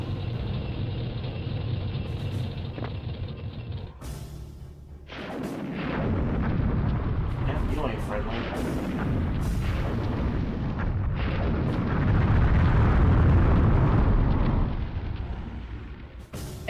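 Heavy explosions and booming blasts from tanks in a toy-world army-men video game, dense and loud, rolling continuously with rumbling bursts throughout, no talking.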